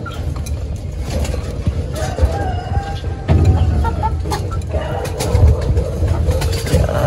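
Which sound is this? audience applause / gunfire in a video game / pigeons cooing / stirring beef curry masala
pigeons cooing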